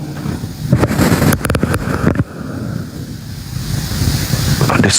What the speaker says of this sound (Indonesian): Suara angin.